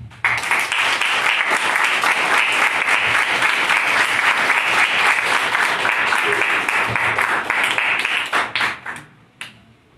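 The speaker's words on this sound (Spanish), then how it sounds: "recibámosla con un fuerte aplauso" A crowd at a school women's poetry event claps loudly and steadily to welcome a performer, holding dense applause for about eight seconds before it thins into a few scattered final claps and quiet.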